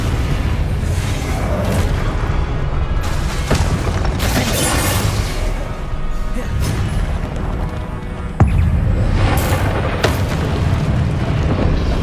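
Spells are cast in Hogwarts Legacy, with booming explosions, whooshes and crashing impacts over a continuous loud rumble of game audio. Several sharp blasts stand out, and no voices are heard.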